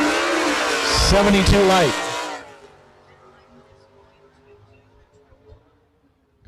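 A small-motor drag race car with a 4-speed gearbox screams through high revs on a test pass, loud for the first two seconds with a gear change, then fades away into the distance as a voice speaks briefly.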